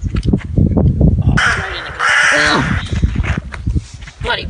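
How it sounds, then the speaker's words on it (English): A crow caws loudly outdoors in a park during a frisbee game, with harsh, raspy calls mixed with people talking nearby. "Bloody bird knocking it out."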